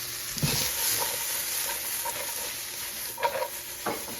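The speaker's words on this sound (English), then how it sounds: "Then saute it up for just to cook them" Vegetables for garlic chicken fried rice, including carrots seasoned with salt and pepper, sauté in a pan with a low steady sizzle and a few soft stirring scrapes and knocks.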